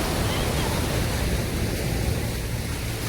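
Sea waves roll onto Miramar Beach in Goa, a continuous loud rushing wash of surf with wind noise on the microphone, steady throughout with no pauses.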